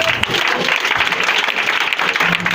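A church congregation claps and cheers continuously in a dense, lively wash of applause that stays full and steady from start to finish.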